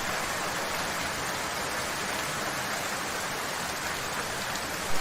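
Steady, even rain pours down in a cartoon about a rainy day, a dense continuous hiss that fills the scene alone, with no voices.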